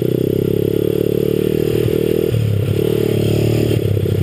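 A 1983 motorcycle or three-wheeler engine labours and bogs under load. It drones loud and close with a steady low rumble, and its pitch drops and shifts partway through.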